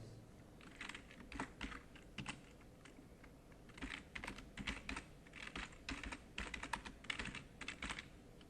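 Computer keyboard typing while entering values into a Lazarus program, in irregular bursts of quick clicking keystrokes with short pauses, fairly close and quiet, with no talking.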